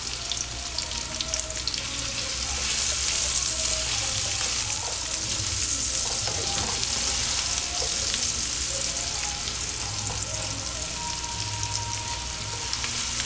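A cinnamon stick and turmeric sauté in oil for bay-leaf chicken thighs, a steady, broad frying hiss holding evenly throughout with occasional faint clinks beneath it.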